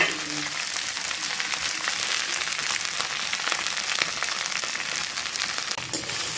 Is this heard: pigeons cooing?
no